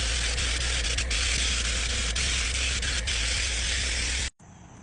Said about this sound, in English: I'm spraying the Imron Industrial paint in the case yellow